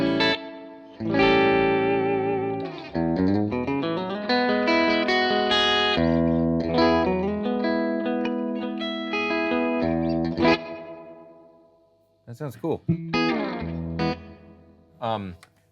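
Music run through a reverb effect with a lengthened reverb time and the wet mix pulled back, giving dense, washy sustained tones that swell and then fall off; someone briefly speaks near the end.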